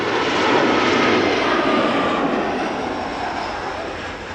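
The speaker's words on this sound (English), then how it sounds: "the KLM 747 now flying near my hometown, just south of it" A KLM Boeing 747 flies near Schiphol, just south of town over Kaag, with a loud broadband jet roar that is steady and close, easing slightly as it passes.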